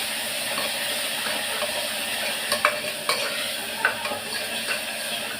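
Chicken gravy masala sautés in a pan with a steady soft sizzle and hiss, broken by a few light stirring scrapes and clicks, fairly quiet and close, with nobody speaking.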